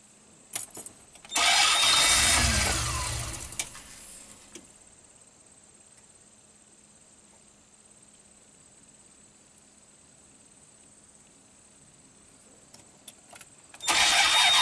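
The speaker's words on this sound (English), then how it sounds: "It kind of cranks really weakly." A Ram camper van engine cranks weakly after a hot soak, a loud sluggish starter churn lasting about three seconds, then a long quiet stretch with a steady high whine, and a second burst of cranking begins near the end.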